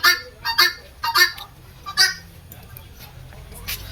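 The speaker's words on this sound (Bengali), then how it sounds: "দেখো তেতারা মুরগি।" Guinea fowl calling at a zoo: several sharp, honking cries in a rapid cluster near the start, then fading to quieter background as a person speaks.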